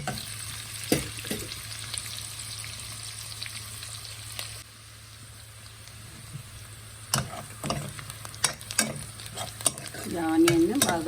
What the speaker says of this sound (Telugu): బ్రౌన్ కలర్ వచ్చే వరకు అంటే బాగా కుక్ అవ్వాలన్నమాట కుక్ అయ్యి చక్కగా ఫ్రై అయిపోవాలి